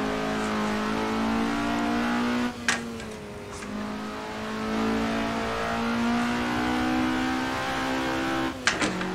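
Formula race car fitted with a Dacia engine in Assetto Corsa, its engine note droning steadily and loudly throughout, with shifts in pitch as it revs and two sharp gear-change blips, no talk.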